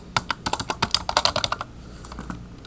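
Quick bursts of keystrokes on a computer keyboard, a rapid irregular clatter of crisp clicks that slows to a few scattered taps near the end, close and clear with no talking.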